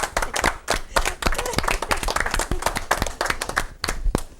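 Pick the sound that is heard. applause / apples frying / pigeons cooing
applause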